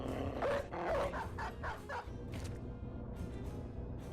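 A dog barks several times in the turn-based video game Battle Brothers, a quick run of close, moderately loud woofs followed by a few softer sounds over a low game background.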